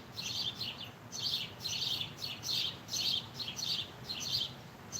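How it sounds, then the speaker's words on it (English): Near Lake Michigan, birds chirp in a steady series of bright, rapid tweets, about eight short clusters over low background noise, moderately close and unaccompanied by speech. "I like hearing those birds, said Mr. Lamb."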